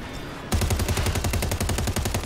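Rapid, continuous automatic fire from two Uzi submachine guns held at once in Warzone, a dense hammering burst that starts abruptly after a half-second of quiet and stays loud and steady to the end.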